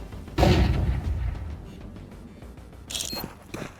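A flashbang grenade in Counter-Strike 2 goes off with a loud, sudden burst, followed by a decaying rumble and a second sharper crack near the end, all with no talking.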